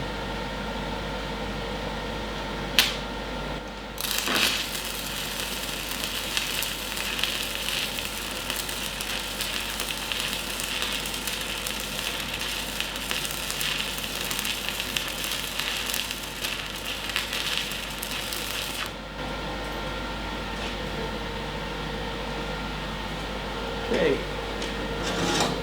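Stick welding arc sizzling during a simple beginner weld, a steady broadband crackle and hiss running continuously for about fifteen seconds at moderate loudness, with quieter shop noise before and after.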